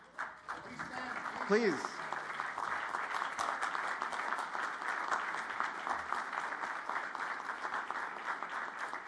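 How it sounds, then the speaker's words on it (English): An audience at an award ceremony claps in sustained applause that starts after a brief spoken word and keeps a steady, dense patter to the end, with a few voices mixed in. "So tonight, I want to applaud my mom and dad, who are in the audience over here."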